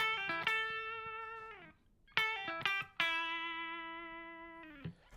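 Electric guitar played through a Boss CP-1X compressor pedal, three bright, evenly sustained strummed chords ringing out with smooth, level decay and a brief pause between the first and second, no voice over it.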